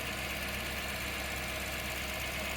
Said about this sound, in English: Wow, it idled down really quick.